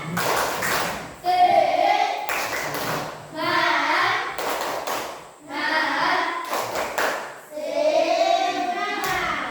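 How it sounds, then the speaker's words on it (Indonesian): Classroom group of students doing a rhythmic spirit clap, bursts of patterned clapping interleaved with children's voices chanting along, repeated in several cycles. "Tepuk semangat."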